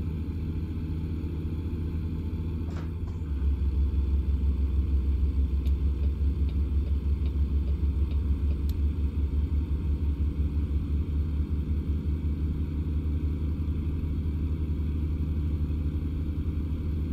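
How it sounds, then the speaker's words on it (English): A heavy truck engine in American Truck Simulator drones steadily on a highway, a loud continuous low rumble that swells after a few seconds and holds with no talking. "My truck is very loud."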